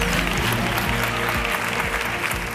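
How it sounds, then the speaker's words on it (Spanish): An audience applauding at the close of a televised interview, a steady, broad clapping wash that stays loud throughout under a low musical hum. "Y un aplauso para él."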